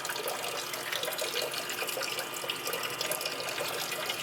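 A pump pushes water through a car heater core, making a continuous hissing, splashing rush of flowing liquid that stays steady and fairly close for a few seconds with no voices.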